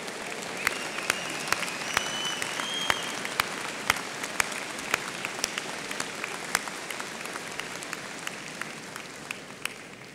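Steady applause from a large crowd at a university commencement ceremony, many hands clapping continuously at moderate volume, heard from a slight distance in a big room.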